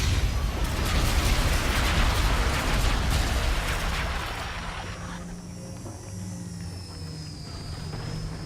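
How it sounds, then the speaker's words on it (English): Friendly bombardment in Call of Duty: Infinite Warfare brings a dense, rumbling wash of distant explosions and crackling blasts that swells and then fades into a quieter mechanical hum. "Friendly bombardment incoming."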